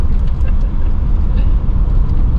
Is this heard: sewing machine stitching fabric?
no